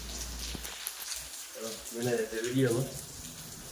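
Torrential heavy rain pours steadily in the background while someone speaks briefly over the downpour.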